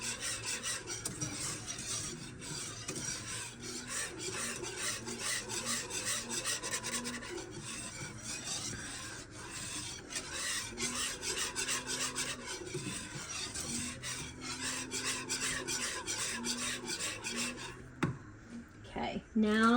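A whisk scrapes rapidly and rhythmically through Kansas City-style BBQ sauce ingredients in a pan on medium heat, producing a steady close raspy swishing that stops near the end.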